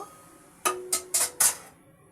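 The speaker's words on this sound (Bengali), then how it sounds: "এবার আমি ঢাকনাটা দিয়ে দেব" A metal lid settles onto a cooking pot of simmering greens with four quick, bright clinks and rattles within about a second, close by, then quiet.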